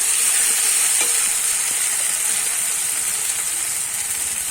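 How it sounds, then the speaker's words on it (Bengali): Fig, shrimp and potato curry with onion paste sautéing in a pan gives a steady, close sizzle with a bright hiss that holds evenly throughout, with no talking. "একটুখানি কষিয়ে নেব ভালো করে"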